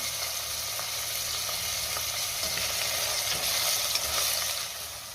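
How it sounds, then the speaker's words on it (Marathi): Chopped tomatoes with a little salt fry in a pan for mutton masala, producing a steady, moderately loud sizzle with faint stirring ticks and no talking. "आता आपण त्यामध्ये टोमॅटो घालूया आणि टोमॅटो सुद्धा 2 ते 3 मिनिटं चांगला परतून घेऊया।"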